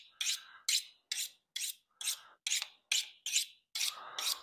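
A Smith's mini knife sharpener rasps a knife blade in ten even, quick strokes, each a short bright scrape with a small gap before the next. The sound is close and fairly quiet, with no talking.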